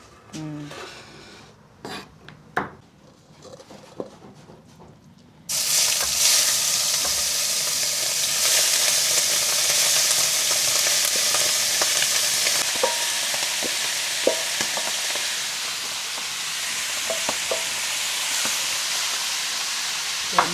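Garden vegetables with garlic hitting a hot pan in an African village kitchen: quiet clinks and shuffles, then a sudden loud, sustained sizzle that hisses steadily with occasional stirring scrapes.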